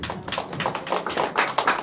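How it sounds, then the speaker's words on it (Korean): Audience in a lecture hall clapping for two participants, a brisk, steady patter of many hands at moderate distance, fairly soft and continuous for a couple of seconds without talk. "여러분 두 분에게 박수"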